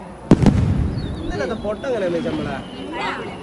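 Fireworks at a New Year 2026 celebration crack in two sharp, close bursts at the start, followed by people chatting and calling out over a fainter crowd hubbub.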